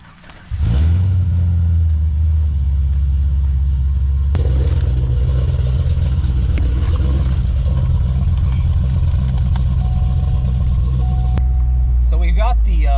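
A Nissan 350Z engine idles with a deep, steady rumble close by, rising briefly as it revs, while a voice talks over it.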